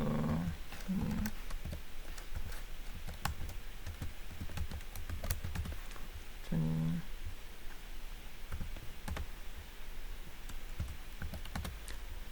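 Rapid typing on a computer keyboard while editing a spreadsheet, a dense stream of close, sharp key clicks with short pauses, over a low steady room hum and no voices.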